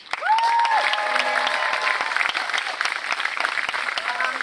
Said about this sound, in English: please give them also a round of applause